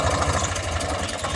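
A tractor engine idles steadily in a farm field, a low continuous rumble running close and unbroken throughout.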